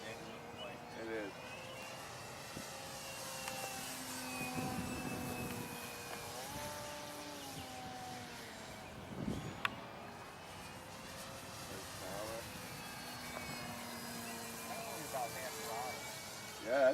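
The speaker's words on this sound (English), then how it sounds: "That is a big plane." A big radio-controlled model airplane drones overhead at a flying field, its engine pitch rising and falling as it passes, moderately distant, with people chatting nearby over it.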